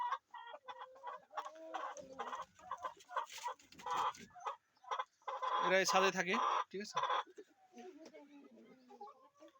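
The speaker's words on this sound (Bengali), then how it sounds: "এগুলো কিন্তু টাইগার মুরগি" Tiger chickens feeding on a rooftop farm cluck and squawk close by in bursts, mixed in with a person talking over them.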